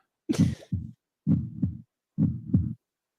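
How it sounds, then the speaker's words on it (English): A heartbeat sound effect plays as three clear, loud lub-dub pairs in a slow, even rhythm, each double thump followed by silence. "I know that's a heartbeat."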